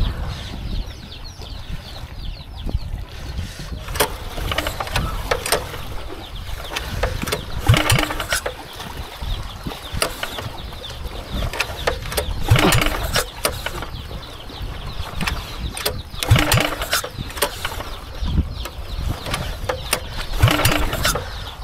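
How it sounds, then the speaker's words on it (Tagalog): An engine turns over and keeps running, a rough mechanical rattling and clattering with repeated knocking bursts, loud and close, going on without talk. "Ang nilagnat yata yung makina."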